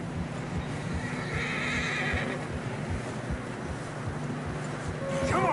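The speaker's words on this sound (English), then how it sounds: "Horses are struggling." A horse neighs and whinnies while trudging through fresh snow in the video game Red Dead Redemption 2, with hoof steps and steady wind-like ambience running underneath throughout.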